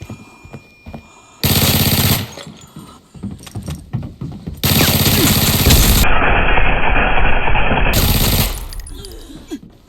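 Automatic gunfire in the video game Arena Breakout, loud bursts of rapid shots in several blocks, the longest sustained for about four seconds, with quieter clicks and mechanical handling between them.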